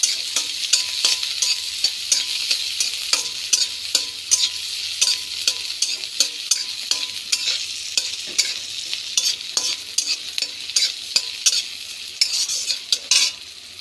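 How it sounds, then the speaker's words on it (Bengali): Chopped ginger, green chili and curry leaves fry in a pan with a steady bright sizzle, punctuated by rapid, regular scrapes and clinks of a spatula stirring against the metal, close and loud with no talking. "আদা কুচি আর লঙ্কা কুচি। কারি পাতা মতো ভালো করে ভেজে নেব।"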